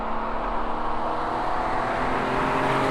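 A BMW M3 E46 six-cylinder engine while driving, giving a steady, loud drone heard from inside the car with no break.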